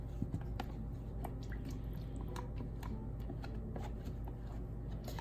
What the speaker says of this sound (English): there's probably about between 3/4 and 1 cup of the pesto here that I'm going to stir in